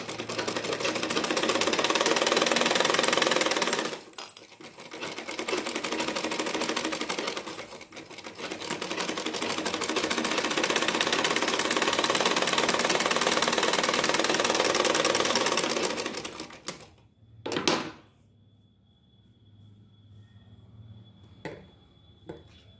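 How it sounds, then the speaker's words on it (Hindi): Sewing machine stitching a blouse, running in long steady bursts of rapid mechanical chatter with a brief pause, then stopping with a few faint clicks before near silence. "अब लगाएंगे सिलाई।"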